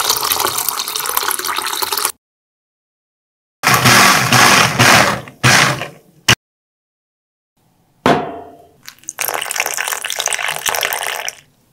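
Water poured from a cup into a pan for a sweet-sour sauce with onion, garlic, chili, ketchup, sugar and vinegar; two separate loud splashing pours, each a couple of seconds long, with short knocks and gaps between them and no talk.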